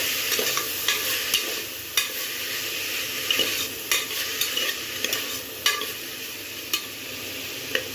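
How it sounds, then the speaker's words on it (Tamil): Mixed vegetables for brinji rice being stirred in a hot pan, repeated light scrapes and clinks of a spoon at an irregular rhythm over a continuous soft sizzle, close by. "இதை வந்து நல்லா மிக்ஸ் பண்ணலாம்"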